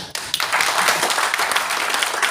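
An audience bursting into clapping at a motivational talk, a dense, sustained wash of many hands clapping together, loud and close throughout.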